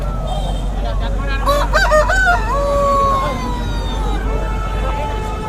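A native rooster crows once at a country chicken market in Nallapadu, its rising and falling call standing out over a steady, noisy outdoor background hum.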